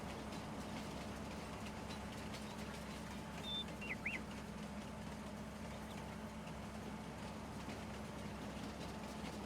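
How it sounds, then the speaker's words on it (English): Low, steady rumble of a train running in Farming Simulator 19, droning evenly at moderate volume with a faint bird chirp briefly above it. "This is the train that comes up closest to the starting farm."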